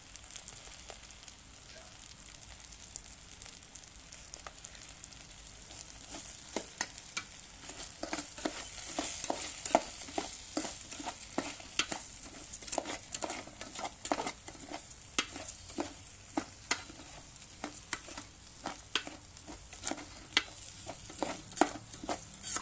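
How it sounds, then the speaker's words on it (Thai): Rice stir-fried in oil for Thai chicken rice, a continuous quiet sizzle broken by frequent sharp scraping ticks of a spatula against the pot, steady and close, without speech. "ผัดให้เข้ามัน"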